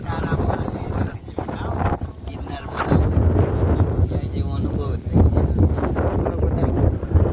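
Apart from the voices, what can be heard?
wind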